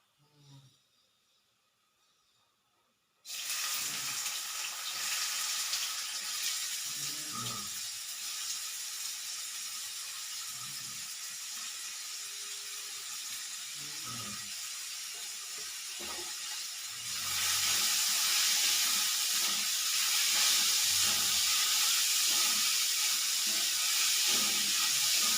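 Sliced onions drop into hot oil for a potato and pea gravy. A sudden, loud, steady sizzle breaks a near-silent start, then swells even louder toward the end.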